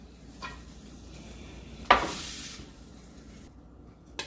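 A spoon stirs red beans with bay leaves inside a crock pot, giving one short wet scraping slosh near the middle, with quiet, faint clinks around it and no talking.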